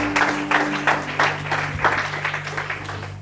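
A church congregation claps in steady rhythmic bursts, loud and close, with sustained organ or keyboard tones beneath the applause.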